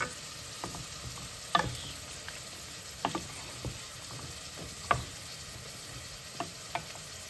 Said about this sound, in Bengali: সেখানে আমার মিক্সড ভেজিটেবলস আর কিশমিশটা একটু ভাজা ভাজা হয়ে গেছে